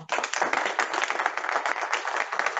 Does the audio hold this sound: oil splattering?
no